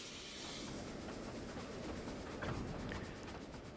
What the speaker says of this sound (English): you heard the train start to stretch out again because the brakes release here